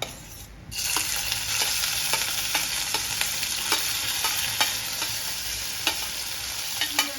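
Crushed shallots, garlic and curry leaves frying in a pan: a loud, steady sizzle that starts abruptly, with regular scraping taps of a spoon stirring through it.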